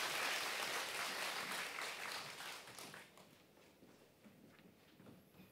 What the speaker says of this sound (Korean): 큰 박수 맞으시면 감사하겠습니다